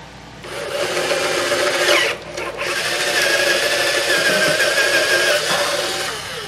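Drilling through a Gibson mandolin neck with a hand-sharpened bit, a steady close grinding whir that runs continuously with a brief dip near two seconds, loud and alone without talk.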